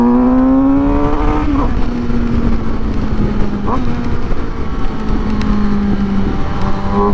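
A Suzuki GSX-S 750 motorcycle on the road, its loud engine droning in steady harmonic tones that dip and shift between gears over constant road and wind rush.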